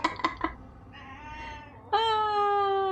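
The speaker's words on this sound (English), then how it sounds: "I don't know if you can hear her meowing in the" A house cat meows close by, first a few short chirpy calls, then a softer drawn-out meow, ending in a loud, long, plaintive cry. No one speaks over the cries.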